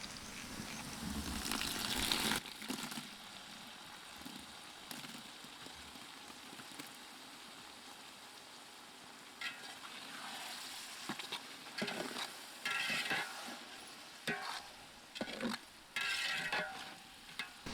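Onions and tomatoes fry in a pan while being stirred during village cooking in the rain, with a louder sizzle at first, then a quieter hiss broken by repeated scraping stirs.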